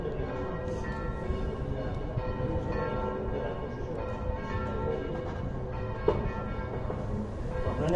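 Church bells ring in Valencia and La Mancha, a dense steady peal of overlapping tones that carries on without pause, with one sharper strike standing out near the end.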